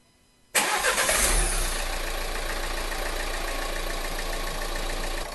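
A Renault Mégane 1.5 dCi diesel with the K9K engine cranks and fires up abruptly, then settles into a steady, close, loud diesel idle with a faint knocking rattle.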